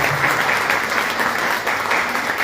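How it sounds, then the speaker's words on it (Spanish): Steady, dense applause from a crowd, sustained evenly throughout with no pauses. "Esa persona es el doctor Fernando Grivi, a quien le quiero un fuerte aplauso."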